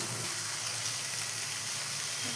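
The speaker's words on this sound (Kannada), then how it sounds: "ಚೆನ್ನಾಗಿ ಫ್ರೈ ಮಾಡ್ತೇನೆ." Fenugreek seed sprouts frying in a pan make a steady, even sizzle and hiss that carries on without a break, close and fairly quiet, with no voices over it.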